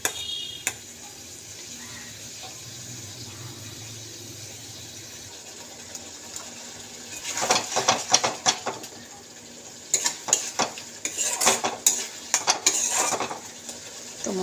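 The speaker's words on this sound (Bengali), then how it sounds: "তো মশলাটা কষা হচ্ছে" Masala with tomato and green chili being fried and stirred in a pan, with soft frying underneath and bursts of spoon-on-metal clatter and scraping in the second half.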